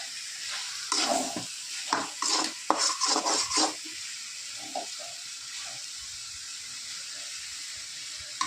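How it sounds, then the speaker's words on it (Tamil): Chicken curry being stirred and sautéed in a pan, with a run of scraping spoon strokes against the pan over a soft background sizzle that continues quietly after the stirring stops. "நல்லா இதை வதக்கி விடணும்."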